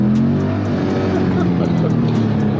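A Corvette C8 V8 engine rumbles loudly and continuously with a deep, throaty tone and slight shifts in pitch, close and dominant throughout.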